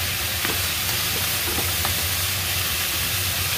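Shrimp cubes sizzle in a hot pan during home dinner cooking. A steady, loud hiss of frying fills the whole stretch, with a few faint clinks on top.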